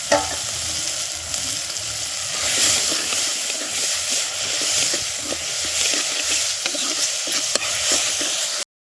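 Ginger garlic paste sizzles in a pan with softened tomatoes for village-style poricha kuzhambu, a steady close frying hiss with scattered stirring scrapes throughout, no voices.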